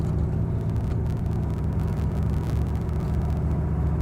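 Inside a moving car, engine and exhaust noise make a loud, steady low rumble and whir that fills the cabin without a break, with no voices over it.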